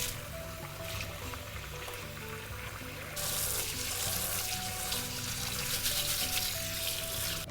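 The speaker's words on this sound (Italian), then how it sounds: "andiamo a sciacquarlo sotto l'acqua." Jasmine rice rinsed under a running kitchen tap, the water hissing steadily and growing louder partway through as the flow strengthens, with faint background music underneath.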